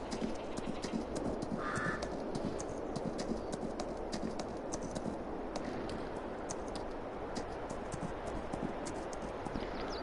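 Horse hooves clip-clop steadily in Farming Simulator 22 on a hobby farm, a dense, even run of close hoofbeats over a constant background bed with no talking.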